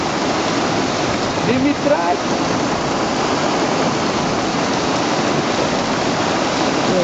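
Steady rushing floodwater flows loudly and continuously down the main street of Pythagorio, Samos, Greece, while a voice calls out briefly over it.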